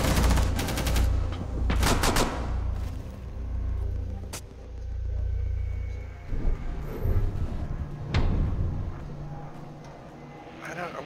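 Gunfire in the Rainbow Six Siege video game crackles in several bursts and sharp single shots amid low rumbling, with a player's voice speaking over parts of the action.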